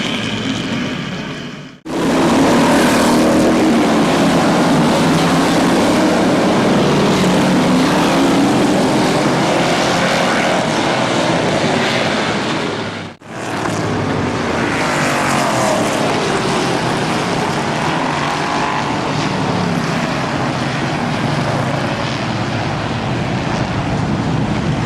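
Race cars on an oval raceway at Barberton Raceway Park, a continuous loud, broad engine roar from the pack filling the whole stretch, with two brief dips as the cars pass by.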